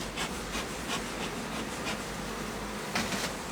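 Honeybees buzzing steadily inside an opened hive during an inspection after new queens were introduced, a dense close hum with brief louder swells and no talk.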